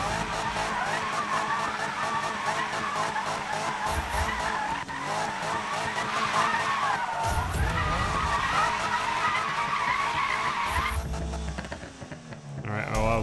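Subaru BRZ in a drag race in Need for Speed 2015, engine revving and rising through gears with tire squeal and abrupt shift drops, loud and continuous, with a voice talking over it.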